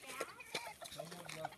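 Chickens cluck on a farm in a series of short, close bursts, with people talking over them.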